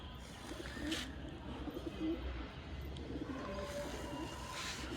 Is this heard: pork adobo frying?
no